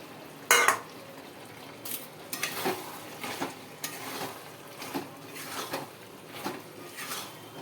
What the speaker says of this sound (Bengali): এবারে ভেজে রাখা ইলিশ মাছগুলো আমি এটার ভেতরে দিয়ে দিলাম